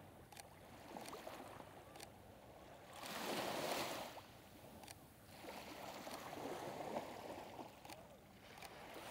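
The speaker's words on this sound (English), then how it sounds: "the waves coming in" Ocean waves roll in along the Stanley Park shoreline in Vancouver, a faint, distant wash that swells and recedes in slow surges, with light scattered clicks on top.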